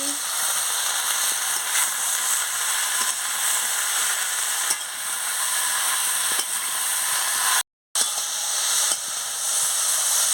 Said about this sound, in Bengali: দিয়ে ভালো করে আনাজটাকে কষিয়ে নিচ্ছি।